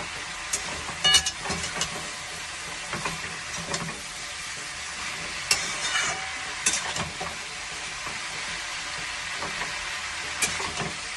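Shredded cabbage fries with ginger paste and green chili paste in a pan, a steady close sizzle with occasional clatters of stirring, no voices.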